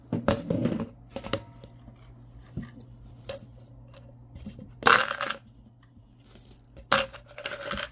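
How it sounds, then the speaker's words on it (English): Copper pennies drop into a cup several times, each landing a sharp metallic clink or short jingle, spread apart with quiet handling noise between, close up and without talk. "We got a cup for the copper coins."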